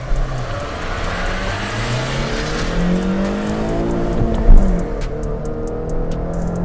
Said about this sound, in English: It loves to rev, it loves to spin up, it enjoys banging against the rev limit.